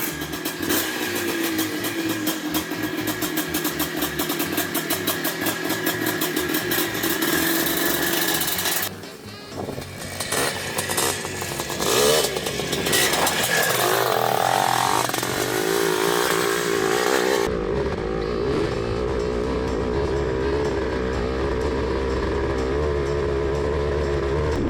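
A vintage Husqvarna WR430 motorcycle engine buzzes loudly and continuously, its pitch rising and falling with the throttle, then dips briefly before settling into a steadier, lower drone.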